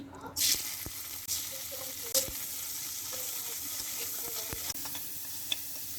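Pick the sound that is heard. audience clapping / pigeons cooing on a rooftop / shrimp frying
shrimp frying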